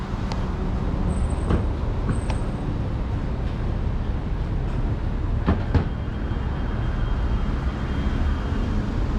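An LRT train runs beneath the street near an underground station at Bukit Bintang in Kuala Lumpur. A steady, loud rumble mixes with city traffic noise, and a few sharp clanks and a faint high whine come through, with no talking.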